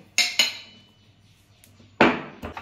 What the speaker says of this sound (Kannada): ಮೊದಲು ಶುಂಠಿ ಮತ್ತು ಕಾಳುಮೆಣಸನ್ನು ಚೆನ್ನಾಗಿ ಜಜ್ಕೋತೀನಿ.